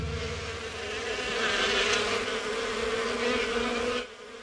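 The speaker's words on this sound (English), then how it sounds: "It sounds like something buzzing. Buzzing bees!" Steady insect-like buzzing of bees in a children's TV show, a continuous droning hum with a brightening swell midway, cutting off near the end; no speech.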